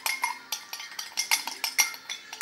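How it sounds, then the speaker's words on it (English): A metal spoon stirs sugar and lemon in a cup, scraping and clinking against its sides in a quick, steady series of sharp taps and grainy rasps, close by with no talking. "I will take half spoon of sugar, this one I'm missing, so I will mix it in the cup."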